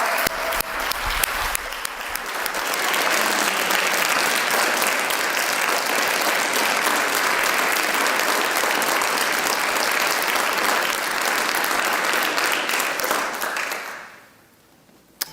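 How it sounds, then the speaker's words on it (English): A church congregation applauds during a Sunday service, a full, sustained round of clapping held at an even level for many seconds before it fades away at the close. "Can we have her stand and give her a rousing round of applause?"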